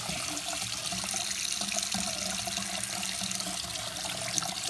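Hot water runs steadily from a tap in a system with a Taco Genie 0011-CF 3/4-inch 1/8 hp recirculating pump and a tankless water heater, a continuous moderate splashing rush with no voices.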